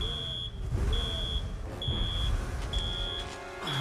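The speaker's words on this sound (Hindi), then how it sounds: "लेकिन अलार्म क्यों ऑन है?" A repeating electronic alarm beeps in evenly spaced bursts, five short high tones, over a steady rumble of vehicle noise with no speech.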